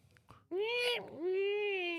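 A person imitates a cat with a drawn-out, wavering meow that dips in the middle and rises again, close to the microphone, after a few faint bumps.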